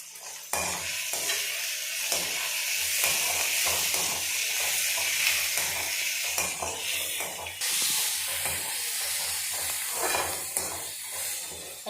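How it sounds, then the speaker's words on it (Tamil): Tomatoes and green chilies sautéing in a pan for a ladies finger kuzhambu, a loud continuous sizzle broken by repeated stirring scrapes of a spoon, no voices. "தக்காளி நல்லா வதங்கிடுச்சு"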